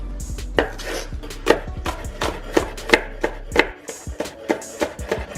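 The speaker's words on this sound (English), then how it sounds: "Next, we're gonna chop some green onions." Green onions are chopped with a knife on a cutting board, a steady run of crisp, close knife strikes with short pauses, with no one talking.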